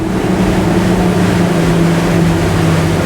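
A 2022 Regal 38 SAV day boat's 900 HP engines roar at about 46 knots and 5,000–6,000 rpm, a steady droning whine with rushing water noise, continuous throughout.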